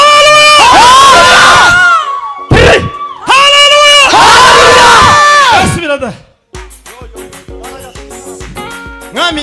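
A church congregation erupts in loud ululation and cheering, with high trilling voices in two long bursts. The bursts are separated by a short pause and give way to scattered clapping and shouts.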